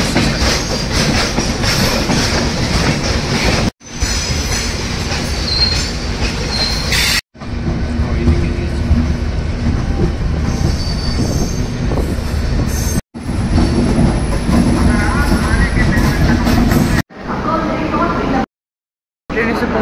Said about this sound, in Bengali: ট্রেন এসে পৌঁছেছে খড়গপুর জংশন রেলওয়ে স্টেশন